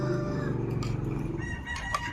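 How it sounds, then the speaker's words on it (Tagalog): Chickens cluck and murmur nearby in a steady, faint chorus, with a few sharper calls near the end. "makukulit yung mga manok"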